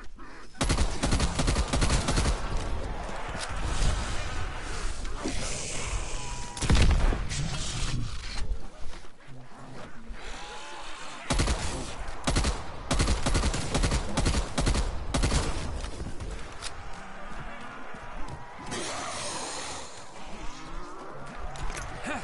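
SMG fire in Black Ops Cold War zombies mode crackles in repeated loud automatic bursts separated by short gaps, close and harsh, continuing over a long stretch amid other game effects.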